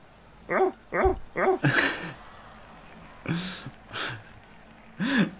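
A barking dog sound effect plays during a Blood Bowl 2 game stream, several short woofs in quick succession followed by later single barks, mixed with speech-like vocal sounds.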